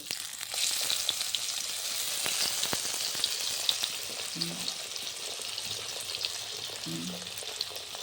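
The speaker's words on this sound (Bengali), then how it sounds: "এখন বেগুনটা চুবিয়ে আমি এই তেলের মধ্যে দেব।" Besan-battered eggplant slices frying in hot oil for begun bhaja, a continuous dense crackling sizzle close by, steady throughout with occasional clinks and brief faint voice in the background.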